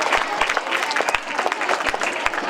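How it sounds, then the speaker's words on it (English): An audience at a school event gives a burst of applause for a class, with dense, lively clapping that carries on for a couple of seconds and a voice briefly heard alongside. "Give a big round of applause for that class."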